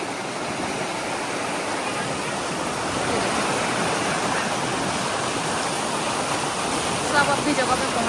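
Water rushing steadily along a partly shallow river in a forest, a continuous broadband wash that stays even throughout and grows slightly fuller midway.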